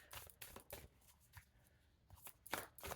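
Tarot cards are shuffled by hand in quick, close riffling bursts, several separated by short pauses, fairly soft and with no talking.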